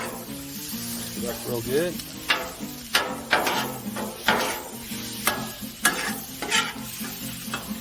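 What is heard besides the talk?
garlic sizzling on a hot Blackstone griddle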